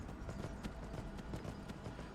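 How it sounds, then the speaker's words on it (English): Horse hooves clip-clopping in the video game Dark Cabal: Broken Spear, a quiet, steady trotting rhythm of repeated hoof strikes over a faint background. "This horse came out of nowhere."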